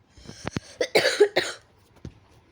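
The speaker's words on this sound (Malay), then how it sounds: "Batuk-batuk sikit." Several harsh coughs in quick succession, close to the microphone, followed by a pause and one last small cough.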